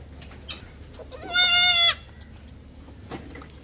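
A young goat lets out one loud, quavering bleat lasting about half a second, close by, amid otherwise quiet surroundings with faint rustles.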